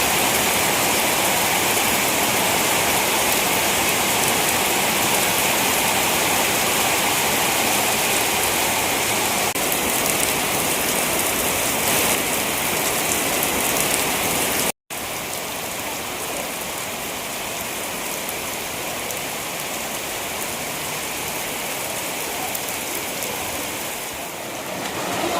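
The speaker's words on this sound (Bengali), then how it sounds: "সকাল থেকে প্রচণ্ড হারে বৃষ্টি হয়েই চলেছে" Heavy rain pours steadily on a rainy day, a dense continuous hiss of drops on surfaces that holds loud and unbroken throughout, with one momentary cut near the middle and no voices.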